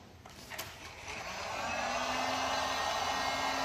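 Heat gun blowing hot air over vinyl wrap on a car wheel spoke, a steady broadband whoosh that rises in the first second, then holds loud and constant with a faint motor whine.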